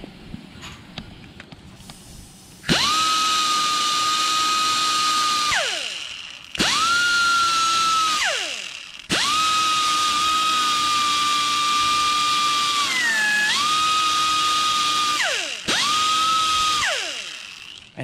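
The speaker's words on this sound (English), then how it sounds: "use this and just grind it smooth a little bit" A power tool grinding a body panel smooth on a 1955 Chevrolet, a loud high whine in four long sustained runs with brief pauses, pitch dipping under load, close and alone.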